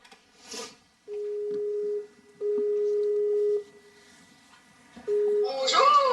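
A call placed from France to Canada produces three long, steady ringing tones separated by pauses, and a voice comes in at the end.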